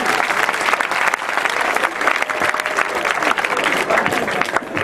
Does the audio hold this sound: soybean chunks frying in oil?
no